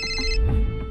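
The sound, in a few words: phone ringing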